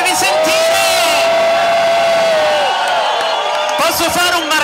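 A crowd at the 2016 Bologna Pride event roars with cheers and shouts, loud and dense, while a single voice holds a long, strained yell above the din.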